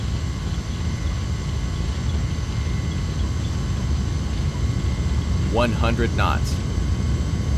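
Twin A330 jet engines roar steadily at takeoff power in a flight simulator. The sound is a loud, dense, continuous rumble, and a brief spoken callout cuts over it near the end.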